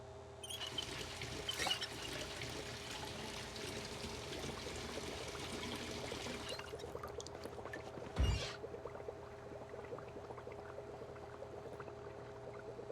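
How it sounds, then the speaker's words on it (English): Water trickling and pouring into bottles from a tap in the Project Zomboid survival game, a steady quiet stream with a faint hum underneath and a sharp knock near the end. "Let's fill up our water bottles."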